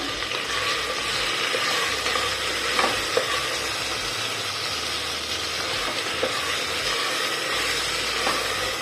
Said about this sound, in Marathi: टमाटर घालून असं परतवून घ्यायचं